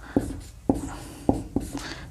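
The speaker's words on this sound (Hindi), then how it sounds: "कोई हिंदी मीडियम के बच्चे हैं तो हम नीचे लिख देते हैं हिप्पैकस" A word is chalked onto a board in a classroom, with four sharp tapping strokes, each followed by brief scratching, close and fairly clear against a quiet room.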